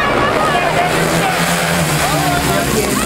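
Ice speedway motorcycles racing on a frozen track in a Russian Cup final heat, loud buzzing engines rising and falling as the bikes pass, with a commentator talking over them.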